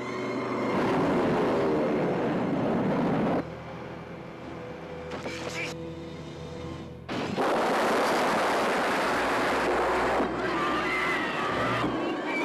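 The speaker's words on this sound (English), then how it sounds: "Plane, the big one, the 747." Boeing 747 airliner in flight in a 1970s disaster film trailer, a loud sustained roaring engine rumble that drops briefly in the middle and then swells again.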